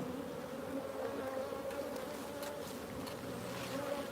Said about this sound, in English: I'm just going to leave the camera looking at these bees